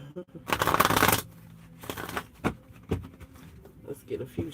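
Tarot cards being shuffled in a hooded-style reading, with a loud riffle burst near the start followed by a few softer card flicks and taps spread across the rest.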